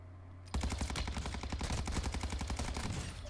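Rapid automatic fire from the Cronen Squall rifle in Warzone 2, a fast, steady burst of closely spaced shots that rattles on for about three seconds, loud and close.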